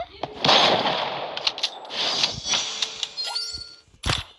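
Rapid bursts of video game gunfire crackle in quick, uneven volleys with sharp repeated shots, fairly close and moderately loud, with a brief pause before a final burst.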